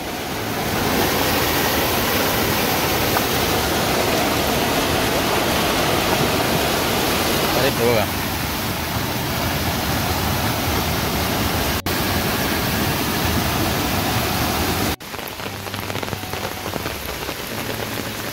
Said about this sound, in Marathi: रोडवरून बघा पाणी किती जोरात जातं।